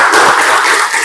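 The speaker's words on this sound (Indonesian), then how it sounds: "Tapi kalau pelajaran hari ini terasa luar biasa, silakan tepuk berulang-ulang." A school class in a coding lesson claps hands rapidly and repeatedly, a loud close burst of many overlapping claps lasting about a second.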